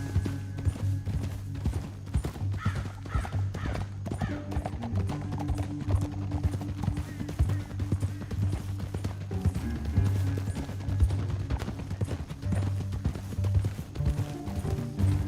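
Horse hooves galloping in Red Dead Redemption 2, a rapid, continuous clip-clop over a low rumbling game score, with occasional snorts and distant clatter, steady and moderately loud throughout.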